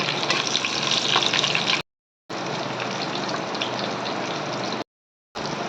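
Garlic, ginger and green chillies frying in hot oil, producing a loud, dense, continuous sizzle close by, broken by two brief silent gaps.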